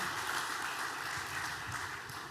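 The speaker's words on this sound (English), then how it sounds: "One more time, a round of applause for the d.light story" Audience applause at a corporate launch event fills the room in a steady, dense wash of clapping, loud and continuous from start to finish.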